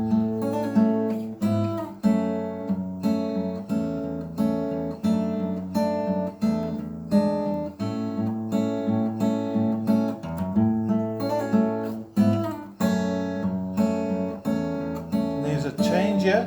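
Guitar picking out a song as a lesson demonstration, a steady fingerpicked melody over sustained chords and bass notes, clear and close, with no talking.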